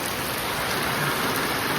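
Rain pours down in a Botad village, a dense, even hiss of drops striking surfaces, close and constant throughout.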